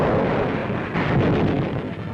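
Heavy, rumbling artillery and naval gunfire from the 1943 World War II battle of Tarawa booms continuously, a loud and dense roar of battle with overlapping blasts.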